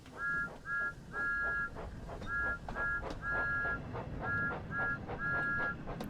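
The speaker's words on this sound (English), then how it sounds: "Who wants to hear Thomas's whistle?" Thomas the Tank Engine's steam whistle in Train Sim World 5, sounding in a repeating pattern of short twin toots and longer blasts, loud and shrill over a rumbling engine background with no talking.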